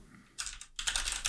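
Quick keyboard typing of a search query, two short bursts of close clicking separated by a brief pause, alone without voices.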